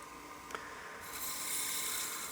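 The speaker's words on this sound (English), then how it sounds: "I'm going to go ahead and sand the rim here" Sandpaper rubs against the rim of a turned wooden coin box, a soft rasping scrape that grows steadier and louder after a brief tap, close by with no voices.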